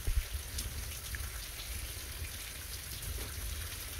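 Steady rain patters and drips on a surface, soft and continuous, with scattered drops standing out.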